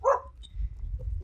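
A dog gives a single short bark near the start during a morning walk in France, followed by faint low outdoor rumble and a few small distant sounds.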